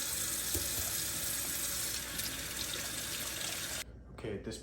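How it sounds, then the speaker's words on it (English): Cold tap water runs steadily over hard-boiled eggs at a kitchen sink as they are peeled, a continuous close splashing hiss that cuts off abruptly near the end. "Run them under cold water as I peel them, cracking them all along the edges."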